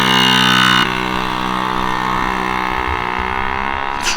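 A car engine idles while warming up, a steady harmonic drone with a louder, brighter first second before settling into an even, close idle with no talk.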